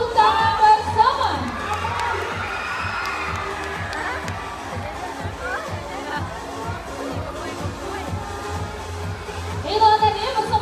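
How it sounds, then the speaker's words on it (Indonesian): At a Taman Safari Prigen animal show, the crowd cheers and claps with children shouting and whooping, a lively jumble of voices and noise throughout, swelling loudly at the start and end. "Kita berikan tepuk tangan bersama."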